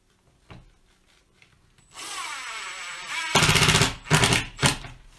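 Small screws being driven into coffee table tray knobs with a power driver, a faint tap, then a whirring buzz that rises into several short loud grinding bursts close by.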